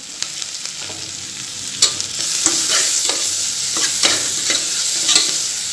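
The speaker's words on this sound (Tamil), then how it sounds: "மீடியம் ஃப்ளேமில் வச்சு வெங்காயத்தை நல்லா வதக்கிடுங்க" Onions sauté on a medium flame with curry leaves for mushroom biryani in a pressure cooker, with a steady sizzle punctuated by repeated spatula scrapes and knocks that grow slightly louder midway.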